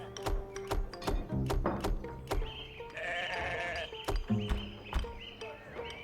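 Sheep bleating in the Orrstead video game, several short bleats in a quick uneven series with a longer sustained bleat midway, clear and close with only faint background.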